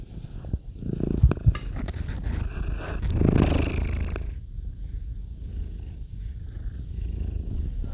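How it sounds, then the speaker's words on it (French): A pet cat purrs close up in a steady low rumble for several seconds, with a few brief scraping and rustling noises near the start and no talking. "Merci pour Patapon, de ronronner"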